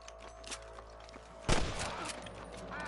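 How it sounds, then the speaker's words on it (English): Gunfire in the Red Dead Redemption video game: one loud close shot or burst cracks out midway, trailing into echoing rumble against a steady background. "I can hear more gunshots."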